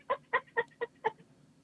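Five loud, harsh bird squawks in an even rhythm, each short and close, with brief gaps of quiet between them.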